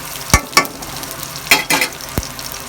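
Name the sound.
chopped onion frying in a pan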